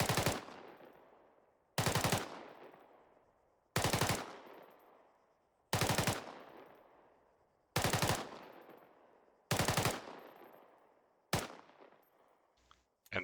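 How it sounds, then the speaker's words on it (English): An M4 rifle fires seven sharp, loud bursts of about three to five rounds each, roughly two seconds apart, with each burst echoing and decaying before the next, ending as the magazine runs dry. "in a cyclic rate of fire with the M4, you are going to fire in a 3 to 5 round burst on close targets"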